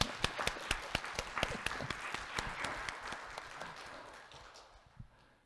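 Audience in a Korean church applauding, sharp distinct claps over a softer crowd patter that gradually fades away.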